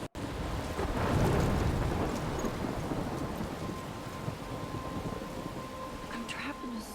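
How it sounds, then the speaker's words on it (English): Thunderstorm in the video game Life is Strange, with a heavy rolling thunder swell early on over steady loud rain and wind that continues throughout. "I'm trapped in a storm?"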